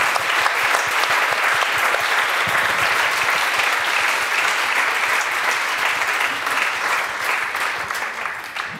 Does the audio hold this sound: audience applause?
yes